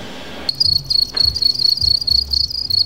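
House crickets on a cricket farm in Kenya chirp in a steady, rapid high-pitched trill that starts abruptly and continues close and loud, with soft low thumps underneath.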